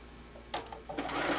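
Sewing machine stitching a back tack along a machine cover, a few short bursts of whirring followed by a steadier run, close and moderately quiet.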